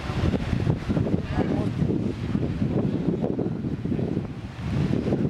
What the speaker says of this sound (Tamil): சரியான காத்துரா.